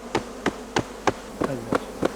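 Honey bees at a hive during a traditional queen transfer give off short buzzing bursts that repeat about every third of a second, close and moderately loud, with no voices.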